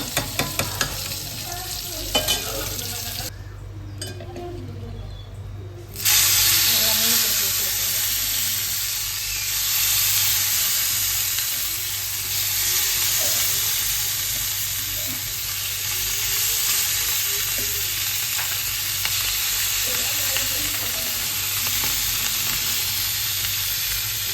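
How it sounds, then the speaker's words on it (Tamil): A pot of fish curry with mango sizzles and hisses steadily as liquid bubbles over heat, with scraping stirring sounds in the first seconds before a steady cooking hiss takes over. "நல்லா கொதிச்சு வைக்கணும் குழம்பு."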